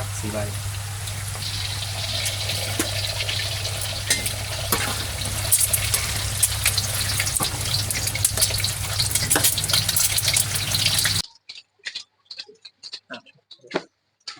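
Eggs frying in a wok at a Thai made-to-order food stall, a steady loud sizzle with stirring and scraping over a constant low hum, then breaking off into a few scattered clinks and clatters.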